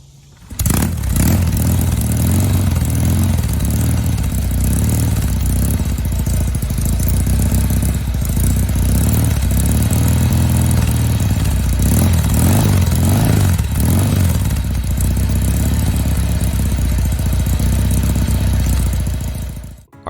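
A vintage Norton Commando motorcycle engine runs loud and close, a rough throbbing idle with clattering mechanical texture and occasional throttle blips, sustained throughout with no voices.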